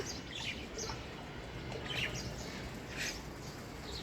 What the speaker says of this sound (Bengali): আর প্রচুর পরিমাণে পাক পাখালি ডাকতেছে